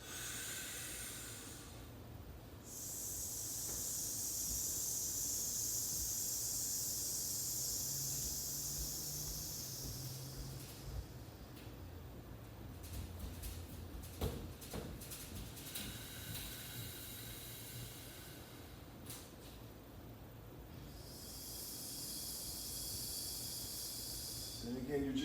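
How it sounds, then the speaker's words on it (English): Slow, restricted compression breathing during a warmup exercise: a long airy hiss of breath, then a softer pause and another long hissing exhale, close and steady with no talking. "that little bit of compression breath, and see if you can exhale twice as long as your inhale"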